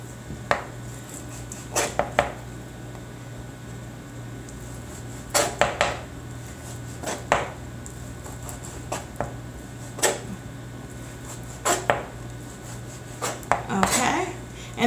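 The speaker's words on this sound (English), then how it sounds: "So we're going to cut up our bacon." A knife strikes a cutting board while bacon is cut up for cauliflower bacon mac and cheese. About a dozen crisp, irregular chops are spaced over a quiet kitchen background, close and fairly loud.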